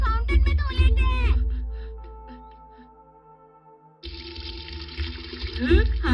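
A splashy cartoon water sound of hands being washed at an outdoor fountain, rushing in bursts and then returning after a brief quiet gap, with music tones and sound effects layered over it.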